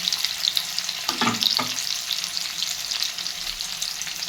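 Paneer cubes fry in oil in a kadai with a bright, continuous sizzle, broken by two quick stirring scrapes early on, close and even throughout.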